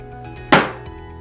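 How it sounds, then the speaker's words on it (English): A single sharp hammer strike rings out once against a hard surface during bathroom demolition, with a brief metallic clink and quick decay over a low background hum. "wants to take a strike with the hammer"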